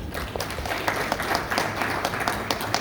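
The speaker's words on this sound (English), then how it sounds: "may we please give her a golden East African hand clap." An audience at a tourism expo gives a round of hand-clapping applause, a busy patter of many hands with some sharper individual claps standing out, moderately loud and close.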